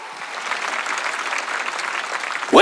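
A church congregation at a Sunday worship service breaking into clapping, a brief dense wash of applause from many hands that swells across the room and cuts off abruptly.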